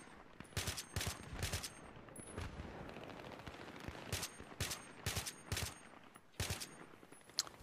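Repeated short bursts of gunfire from a rifle in the Battlefield 3 video game, fired in quick groups of a few rounds with brief pauses between them, loud and close over a low ambient game background.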